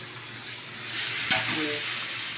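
Food being sautéed in a pan hisses steadily at a low level. Partway through, a single louder scrape of a spoon against the pan cuts in. No voices.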